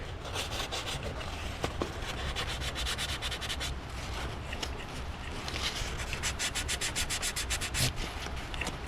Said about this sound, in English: This is some 2000 grit sandpaper. We're just gonna use that and clean this little point deal off real quick.